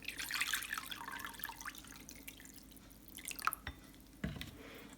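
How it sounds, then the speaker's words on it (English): Water poured into a bowl in a home craft setting, a brief trickling splash at first, then scattered drips and small clinks, faint and close, with no talk. "In a bowl, add 1 litre of water,"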